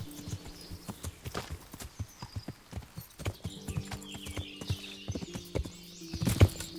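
Rhythmic hoofbeats of a horse galloping down a slope in the video game Kingdom Come: Deliverance, clip-clopping steadily throughout, with a brief whinny-like sound near the end.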